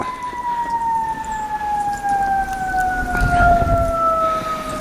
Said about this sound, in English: Sounds like that fire truck's getting pretty close.